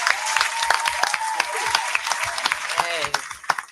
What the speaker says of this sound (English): Clap for Reggie Brown, y'all.